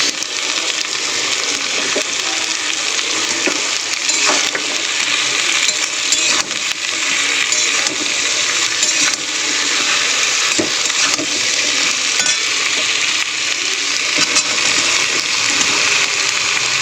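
Mixed vegetables for a Bengali chorchori (malabar spinach, potato, pumpkin, aubergine and radish) sizzle loudly and steadily in a full wok, with a dense hiss throughout and occasional scraping as they are stirred.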